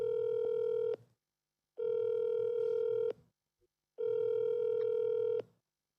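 A telephone tone while calling a lender: three long, steady electronic beeps, each lasting over a second, separated by short silences, clear and isolated.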